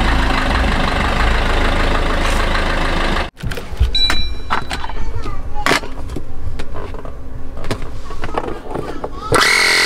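An air pump inflating a bicycle tyre hums and vibrates with an engine-like buzz, cut off abruptly partway through and followed by rattling, clicks and a rising whir.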